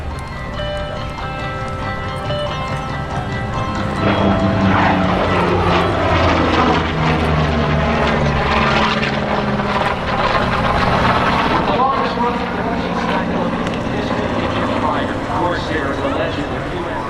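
A Corsair fighter roars past at an airshow in Oshkosh, its propeller engine loud and swelling as it passes, then fading and returning with pitch shifts while an announcer talks over it.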